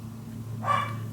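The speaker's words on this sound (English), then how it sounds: "oh doggies, please give me a break. Stop barking." One dog gives a single short bark at a distance, over a steady low hum indoors during box mini album crafting.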